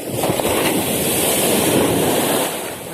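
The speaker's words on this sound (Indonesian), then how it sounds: "Ada ombak datang guys." Ocean waves wash in on a fishing outing, a steady broadband rush of surf with wind buffeting the microphone, continuous and fairly loud before easing off near the end.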